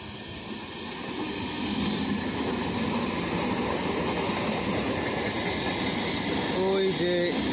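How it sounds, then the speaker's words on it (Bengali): The CSMT–Howrah AC Duronto Express passes at speed with a steady, loud rumble and a rhythmic clatter of wheels, and brief squealing tones come near the end. "CSMT হাওড়া এসি দুরন্ত এক্সপ্রেস দুটো ট্রেনের ক্রসিং বন্ধুরা একসাথে হবে"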